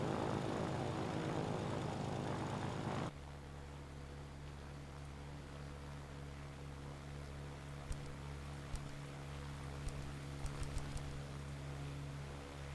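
A WW2 propeller aircraft taking off in the airbase management game Ground of Aces, a loud engine roar that cuts to a steady, lower drone with faint clicks scattered over it.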